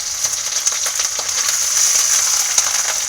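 Ginger and garlic paste fry in hot oil, a loud, steady close sizzle with crackling pops throughout and no voices.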